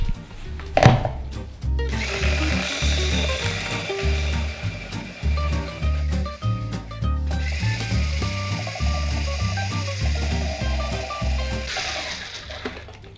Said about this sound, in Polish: I teraz to wszystko będziemy miksować.